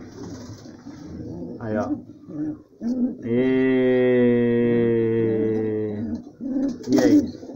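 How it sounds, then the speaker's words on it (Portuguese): A pigeon brooding on two eggs gives a long, steady, resonant coo close by, with someone speaking briefly before and after it. "Aqui tem esse pombo aqui, ó."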